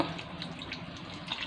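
A splash of water runs into a cooking pot with bangus sardines and oil, a brief close gush and trickle of running liquid with no one speaking.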